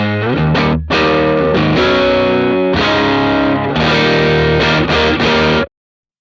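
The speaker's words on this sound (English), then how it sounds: "You're going to get a bit more gain and oomph out of the amplifier." Distorted electric guitar chords through a Matchless DC30 amp model with more gain ring out loud and crunchy, with a short gap early on and sustained strummed passages before cutting off.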